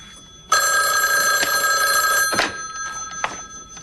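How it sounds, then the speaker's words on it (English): A telephone bell rings loudly and steadily for about two seconds in an indoor setting, stopping abruptly, followed by a couple of faint thuds and quiet room tone. "Forget the phone."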